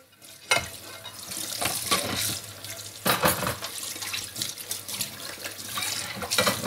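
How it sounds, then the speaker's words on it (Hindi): Water runs from a kitchen tap while dishes are washed, a close, steady splashing stream punctuated by sharper clinks and surges as the flow hits the pots and sink. "तो यहाँ मैं बर्तन साफ़ कर दूँ।"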